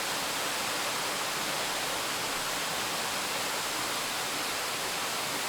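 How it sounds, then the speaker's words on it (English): The Natural Bridge waterfall in Springbrook National Park makes a constant broadband rush, like steady static. The roar is even and unbroken, and no voices or other sounds can be heard. "The waterfall, it's a bit annoying when it's in one spot and there's no other sound with it."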